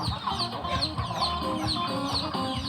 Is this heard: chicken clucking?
yes